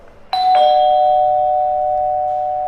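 A new house's electronic doorbell, set to mimic the 7-Eleven store entry chime, sounds two quick bright tones followed by one long ringing note that slowly fades, loud and close with no talking.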